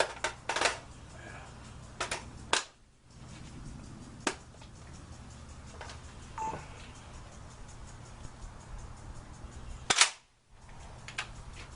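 A Century Arms CETME rifle fires a handful of sharp, loud reports at irregular intervals, with two close shots and a later pair set against quiet background noise.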